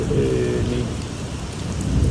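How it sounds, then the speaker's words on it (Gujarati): Heavy rain pours steadily in a village, a dense constant hiss and patter filling the scene with a low rumble underneath, continuous throughout. "જોરદાર વરસાદને અહીંયા"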